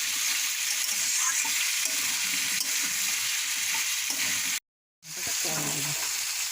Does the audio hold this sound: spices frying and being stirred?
yes